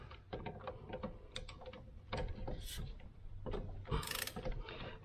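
A ratchet wrench clicks rapidly in bursts while breaking loose the cylinder head bolts on a C3 Corvette's 350 engine, with close, fast pawl ticks and a few clanks.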